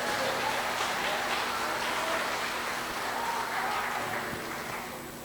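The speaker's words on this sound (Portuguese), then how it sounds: "Você pode bater palma para o Senhor?" A church congregation claps during a Portuguese-language sermon, a broad, even patter of many hands that continues steadily and tapers slightly at the end.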